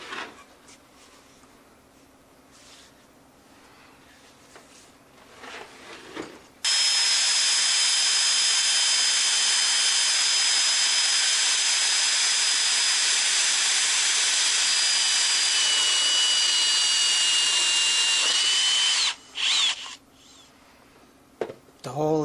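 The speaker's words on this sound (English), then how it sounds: "drill a hole and saw the tire on both sides" Sawzall reciprocating saw cutting through a vintage tire on a '55 Plymouth, a loud harsh buzzing roar that runs steadily for about twelve seconds after a stretch of quieter shop noise, then stops and sputters briefly.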